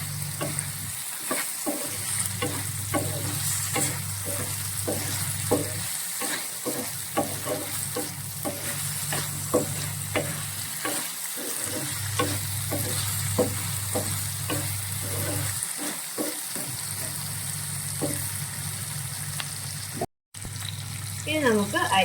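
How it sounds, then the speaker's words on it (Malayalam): Okra sautéing in a pan over a low flame for a vendakka fish curry, a steady close sizzle broken by repeated scraping stir strokes, with a brief pause near the end. "ഒത്തിരി അങ്ങ് വെന്ത് കുഴഞ്ഞു പോകേണ്ട വെണ്ടയ്ക്ക, ജസ്റ്റ് ഒന്ന് വാടി അതിൻ്റെ ആ ഒരു പച്ചപ്പ് മാറുന്നവരെ നമ്മൾ ഇങ്ങനെ ഒന്ന് ചെയ്യുക."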